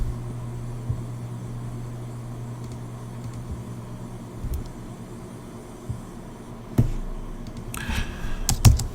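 Keys clack at a steady close pace on a newly replaced computer keyboard, soft and even over a low hum, with no voices.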